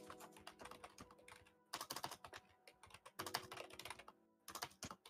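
A deck of cards is shuffled at a table during a card game, in rapid riffling bursts that come in several separate rounds with short pauses, close and fairly quiet with no talk.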